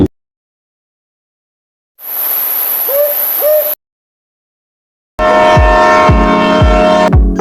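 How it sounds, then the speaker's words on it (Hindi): An owl hoots loudly in two separate bursts with silence between: a short pair of hoots over a faint hiss, then a louder series of rhythmic hoots that repeat and echo, with no voices. "अलिफ से उल्लू।"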